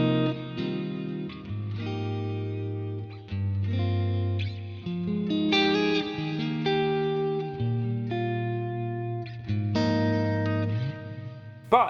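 Clean electric guitar through a captured 1965 Fender Pro Reverb amp profile, played as sustained chords and ringing single notes with steady loudness and a light decay at the end, no voices.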